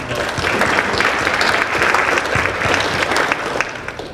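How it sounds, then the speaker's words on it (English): A crowd claps steadily and loudly, dense applause filling the room without pause. "we'll give you a round of applause for that"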